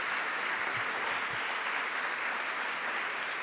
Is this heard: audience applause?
yes